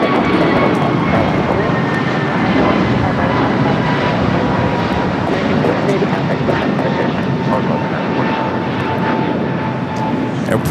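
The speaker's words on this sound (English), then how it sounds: "Air Premier taking off there on the north side. That's a flight heading back to Seoul in the 787-9 Dreamliner." A Boeing 787-9 Dreamliner takes off from runway 25 right at LAX, bound for Seoul, its engines a loud, steady roar that holds for the whole stretch, with a voice talking over it.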